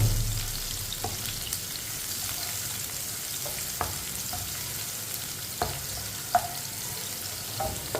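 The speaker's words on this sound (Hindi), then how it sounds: "इसे ऐसे ही चम्मच चलाते हुए ब्राउन करना है।" Finely chopped onions browning in a pan give a steady close sizzle, with a spoon scraping and tapping the metal every second or so.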